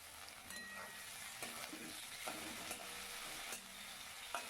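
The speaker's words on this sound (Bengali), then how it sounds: "এবারে আমি গরম তেলের মধ্যে পেঁয়াজটা ছেড়ে দিলাম।" Chopped onions frying in hot oil in a pan, with dried red chillies, during home cooking of begun bhorta: a steady close sizzle with a few louder spatters and stirring scrapes.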